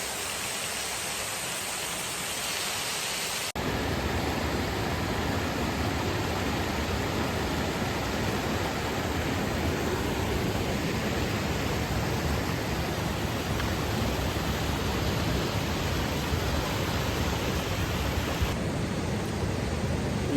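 A waterfall along the Foothills Trail roars as a constant broadband rush of falling water, loud and steady throughout, with no voices.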